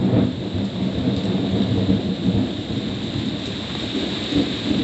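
Steady rain and rumbling thunder surround a boat anchored off Guadeloupe, a continuous low roll of thunder beneath the constant hiss of falling rain, loud and close with no voices.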